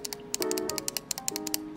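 Rapid, regular clicking, a series of light mechanical ticks from the digital crown of Apple AirPods Max headphones close up, with a faint tonal hum underneath, no voices.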